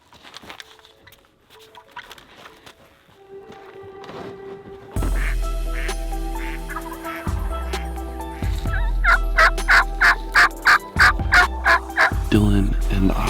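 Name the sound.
wild turkey toms gobbling in the woods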